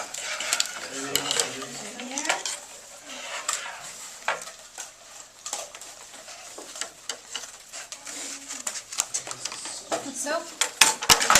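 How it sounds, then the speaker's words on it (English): Dishes, pots and cutlery clatter and clink in irregular bursts of sharp knocks, close by, under intermittent conversation. "These are my dishes."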